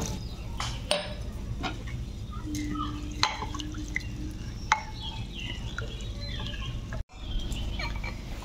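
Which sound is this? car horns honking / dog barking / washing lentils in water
washing lentils in water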